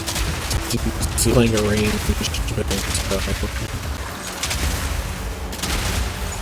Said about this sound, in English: Explosion shot doesn't actually have to hit the enemies, it just hit the ground and do enough damage